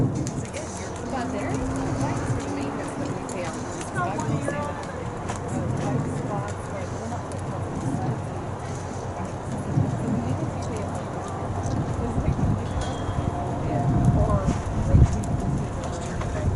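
Horses' hooves clip-clop as they are ridden around a dusty arena, soft repeated hoofbeats under near-continuous talking and outdoor ambience.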